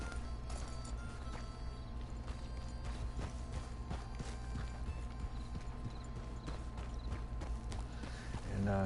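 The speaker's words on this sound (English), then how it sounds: "I'll be riding this here beautiful horse, Blood." Steady clip-clop of horse hooves as a red thoroughbred is ridden in the video game Red Dead Redemption 2, a continuous rhythmic trot close up under a dense outdoor game ambience, with a brief whinny-like swell near the end.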